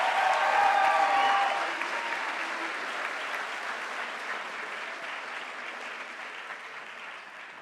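An audience at a high school honors night claps for students. The applause is loud at first, then settles into a steadier, slightly softer patter of many hands that carries on to the end.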